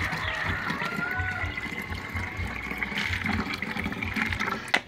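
Rice-washing water pours steadily into a 1.5 litre plastic bottle, a continuous gurgling fill with a rising tone, ending in a brief sharp knock.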